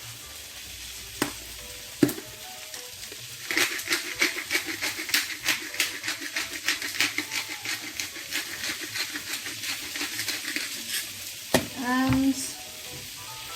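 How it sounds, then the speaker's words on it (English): Meat and vegetable filling for mini empanadillas sizzling in a pan while being stirred, a rhythmic run of scraping strokes over a constant close sizzle, with a brief word of speech. "give it a good stir now. And we have to mix everything very well."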